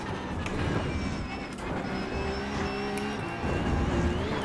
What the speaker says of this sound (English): Full smash of the throttle,